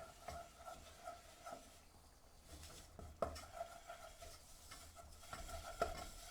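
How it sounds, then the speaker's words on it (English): Spoon stirring flour into melted butter in a pan to make a roux, with soft scraping and occasional clinks against the pot at close range, quiet with no talk. "once your butter has melted, you can put your flour straight in. You need to stir it at this point"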